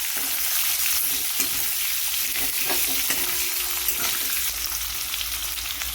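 Cut potatoes frying in oil in a pan for a Bengali rohu fish curry with raw mango, giving a steady loud sizzle with occasional stirring clicks throughout, no voices.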